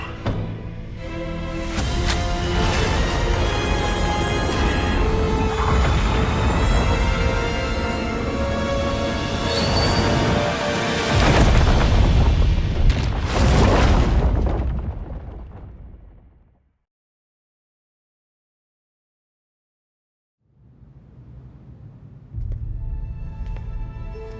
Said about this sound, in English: The Lazarus pit was completely destroyed in the explosion.